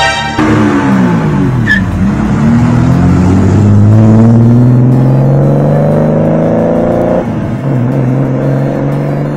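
Classic cars race slowly along an Argentine street, a loud, steady engine drone with rising revs and whirring that holds throughout, close and continuous with no talk.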